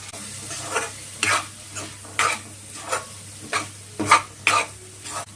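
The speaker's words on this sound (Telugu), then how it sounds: "వేసుకున్నాక ఒకసారి కలిపెట్టుకోవాలి మొత్తం శనగలు వేసుకోవాలండి" Spices and chickpeas for chole masala curry stirred in a pan: about eight scraping spoon strokes at a slow, uneven pace over a low background hum, close and clear with no talking.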